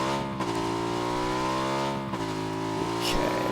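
A motorbike engine in the PUBG battle royale game drones steadily at high revs, its pitch shifting as it shifts and climbs, heard alone with a brief tire-like squeal near the end.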